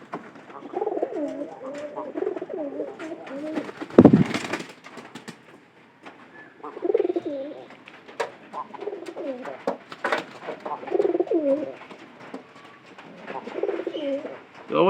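Pigeons inside a tin-roofed loft give repeated soft, throaty coos in rolling phrases, close and clear, with a brief loud flutter or knock partway through and some faint background noise.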